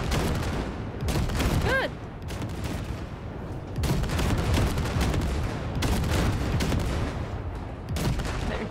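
Tank cannon and Basilisk weapon fire at wrecks in the Cyberpunk 2077 video game, continuous dense volleys of rapid loud blasts in repeated long bursts with brief gaps, one short spoken word over the firing.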